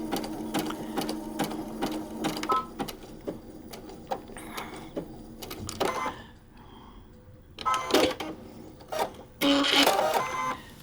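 Sewing machine stitching Cluny lace onto a vintage quilt, running in short bursts of rapid mechanical clatter separated by pauses and handling noises, close and fairly quiet.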